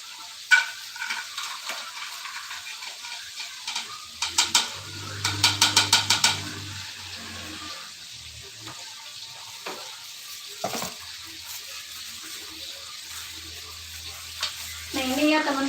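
Homemade steak dipped in flour batter frying in a pan, a steady close sizzle with a few clinks and bursts of stirring or scraping, no talk over it.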